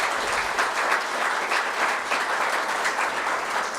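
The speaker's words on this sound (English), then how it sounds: "Please give Frank Lavin a round of applause" Audience applause for author Frank Lavin at a museum book event, a steady, dense wash of clapping from a large crowd that holds evenly throughout without any voices.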